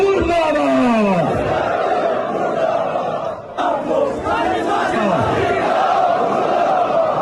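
A protest crowd in Skardu, Gilgit-Baltistan, shouts slogans together in loud, rhythmic massed voices that continue with a brief dip midway.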